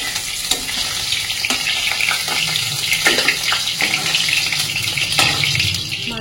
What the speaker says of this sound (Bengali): মাছগুলো কিন্তু লাল লাল করে ভাজা হয়ে গেছে, আর এই মাছগুলো কিন্তু একটুখানি কড়া করে ভাজতে হবে।